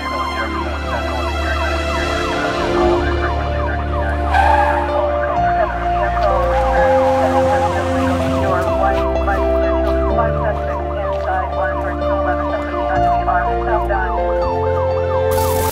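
A wailing emergency siren rises and falls continuously over a backing music track with a steady bass line, both loud and constant throughout, with no speech.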